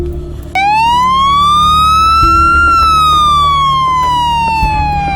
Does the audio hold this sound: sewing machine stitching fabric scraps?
no